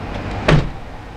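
A ramp on a 2008 Ford Braun MPV ADA wheelchair van folds in and a door shuts, giving one short, fairly close thud over a low steady background hum, with no talking.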